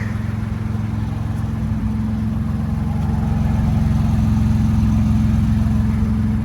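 A 2024 Ford Ranger pickup engine idles steadily nearby, a deep throbbing drone through a Flowmaster 40 Series exhaust holding an even, loud level throughout.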